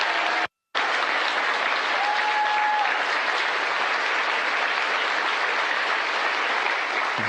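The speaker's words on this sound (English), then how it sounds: "Jubilation here in the flight control room." Sustained applause and cheering fill the Artemis flight control room, a dense, even wash of clapping that continues without a break.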